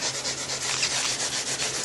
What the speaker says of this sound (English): Scuff this down really good.